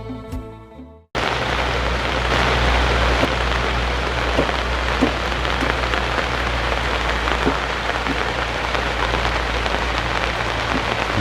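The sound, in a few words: rain falling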